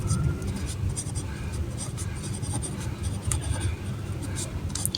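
Handwriting during a Class 8 math lesson, with quick scratchy strokes repeating irregularly over low background rumble and faint murmuring. The writing stays close and fairly clear throughout.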